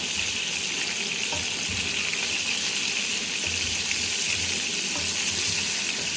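Chicken meat frying in a pan, giving off a steady, close hiss and crackle of sizzling oil with no breaks and no voices.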